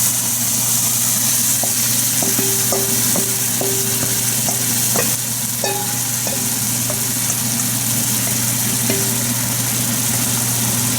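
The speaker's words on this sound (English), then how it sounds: "we're going to add our meat and cream mixture to this." Ground meat and cream mixture frying in a pan with shell pasta: a steady, loud sizzle runs throughout, with a low continuous hum and repeated scraping clicks of a utensil stirring.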